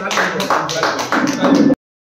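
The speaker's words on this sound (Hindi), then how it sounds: "ताली बजाइए, ताली बजाइए" Audience clapping at a party felicitation ceremony honouring a dentist, dense steady applause in short swelling bursts lasting under two seconds, loud and close, then cutting off abruptly.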